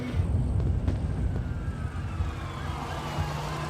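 Police squad car sirens wailing on a street where a woman has been shot, a rising and falling tone over low traffic rumble, moderately loud and somewhat distant, with no one speaking.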